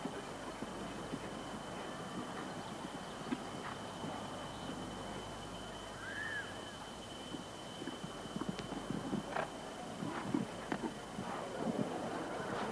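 Horse hooves on turf at a 1984 show jumping event at Hickstead: faint, scattered thuds and clops from a distance under a steady outdoor crowd hum, with no talk.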